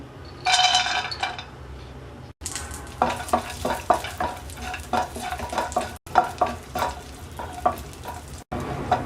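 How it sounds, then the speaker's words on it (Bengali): Cashews frying in ghee in a pan, a close crackling sizzle with repeated stirring scrapes and light clinks of the spoon against the metal, heard alone without voices. "এবার আমরা কাজু ভেজে নেব"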